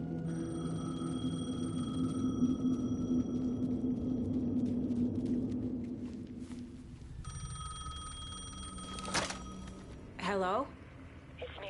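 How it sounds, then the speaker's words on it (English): A payphone ringing in the video game Alan Wake 2, a repeating electronic bell tone heard over a low ambient drone, then cut off near the end by a brief rising warble. "The payphone was ringing."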